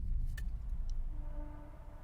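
Train passing through woods, a low continuous rumble heard from a distance, faint ticks on top and a quiet rising tone near the end.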